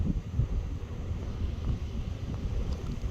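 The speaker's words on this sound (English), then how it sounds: "It's so windy here." Strong wind gusts buffet a microphone on the Aruba coast, a steady low rumbling roar that rises and falls in waves throughout with no voices.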